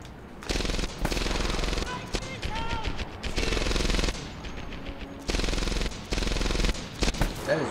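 Machine gun fire in Medal of Honor Airborne comes as loud, sustained automatic bursts broken by short gaps, close and dense, with people talking over the shooting.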